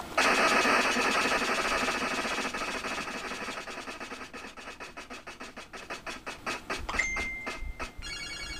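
A spinning prize wheel in the Wheel of Fortune NES video game: a dense run of rapid clicking ticks that gradually slows and spaces out, ending in a few distinct clicks and a short electronic tone.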